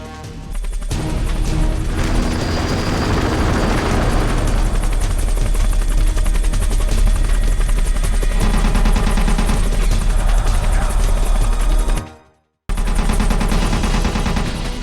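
A Hind attack helicopter in the video game Metal Gear, its loud, continuous rotor thrum mixed with bursts of gunfire and crashing impacts, cutting out briefly before resuming.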